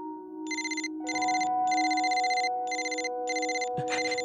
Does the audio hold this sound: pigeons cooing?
no